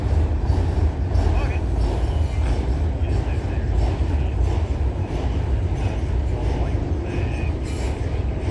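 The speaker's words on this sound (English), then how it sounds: "There's a train" A CN freight train rolls past trackside at night, an Elgin Joliet & Eastern heritage locomotive trailing, making a loud, steady low rumble with faint rhythmic wheel clatter and occasional higher squeals, while people talk nearby.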